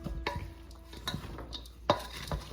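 Chopped onion is stirred into a Haitian seafood macaroni salad, soft close scraping and a few light utensil clicks against the bowl, quiet with brief pauses.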